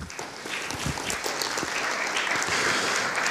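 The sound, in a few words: audience applause for the speaker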